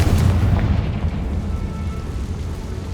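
The Confringo spell from Hogwarts Legacy explodes with a deep, heavy boom that rolls on as a dense rumble and fades slowly, loud and close with no talk over it.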